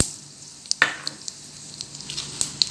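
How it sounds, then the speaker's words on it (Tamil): Mustard seeds hit hot oil for an amla (Indian gooseberry) pickle, giving a steady close sizzle with scattered sharp pops and crackles throughout; no voices. "இப்போ எண்ணெய் காஞ்சிருச்சு கடுகு போட்டுட்டேன்"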